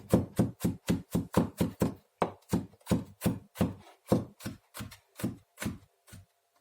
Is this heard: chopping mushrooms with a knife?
yes